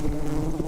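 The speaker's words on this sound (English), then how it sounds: "Oh my gosh, there's so many bees." A swarm of bees buzzes close by in a brief, continuous droning hum.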